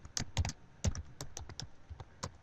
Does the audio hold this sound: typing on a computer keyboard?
yes